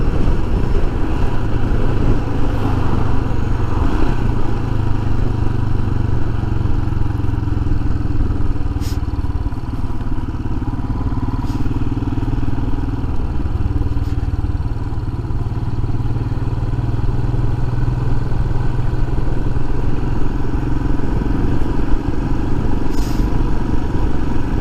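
A Royal Enfield Himalayan motorcycle rides along a country road near Cawood Castle, its single-cylinder engine giving a loud, continuous low thrum with wind rush throughout, steady with slight variations in pitch.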